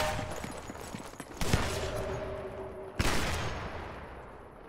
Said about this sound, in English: talk about some heavy gunfire from all directions